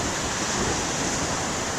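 Big ocean waves breaking on a windy day with a northeast wind, a steady, dense roar of surf filling the whole clip without pause, loud and close, with no voices.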